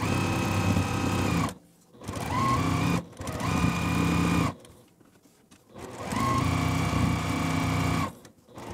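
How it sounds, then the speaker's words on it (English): Domestic sewing machine running in three long bursts with brief pauses between, stitching a quarter-inch seam along the edge of quilt block pieces; close, steady motor whir and needle chatter, no talking. "We're gonna sew down this edge using a 1/4 inch seam allowance."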